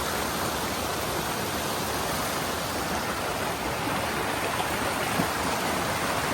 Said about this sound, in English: Raging water here. Sage's Ravine Brook.